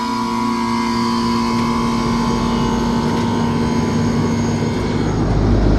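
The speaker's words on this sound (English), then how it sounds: "Condensing fan motor did start up again right away." An old Lennox air conditioner's condensing fan motor runs at close range, a loud steady drone with a strong tonal hum and broadband whoosh that holds evenly throughout, swelling slightly at the end.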